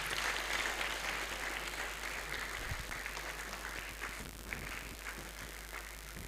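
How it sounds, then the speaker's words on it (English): A public forum audience applauds the Speaker with sustained, dense clapping that fills the hall evenly, with a low steady rumble beneath and no voices standing out. "Another big round of applause for Mr."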